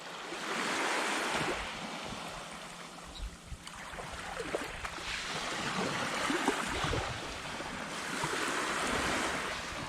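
Waves wash up and recede on a Gulf Coast island beach in broad repeating swells, a steady hiss of surf with wind noise and no voices.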